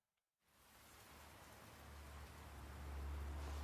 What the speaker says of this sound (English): Looks like the rain's dying